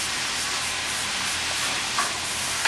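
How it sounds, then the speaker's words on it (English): Ground chicken and turkey taco meat browning in a saucepan on a stovetop, a steady close sizzle and hiss with occasional spoon scrapes while being stirred. "our chicken's starting to cook and brown up here on the stove"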